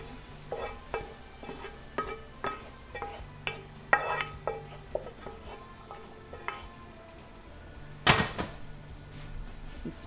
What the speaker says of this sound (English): Throw all the meat and veggies in the bottom of the pan.